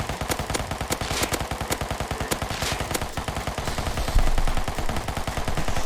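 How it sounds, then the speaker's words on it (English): Rapid sustained bursts of MP5 submachine gun fire in the Rust video game, a dense string of evenly spaced thin, tinny shots with a brief break around the middle. "They've added this like tinny, like weak, pathetic noise to all the guns"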